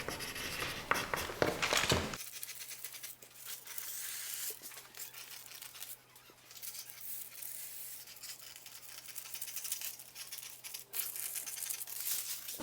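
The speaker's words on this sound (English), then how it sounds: "So I'm going to write Lola Blouse, cut times 2, size small." A pen writes on a paper sewing pattern piece for a blouse, close scratchy strokes in short bursts with brief pauses, after a burst of paper rustling at the start.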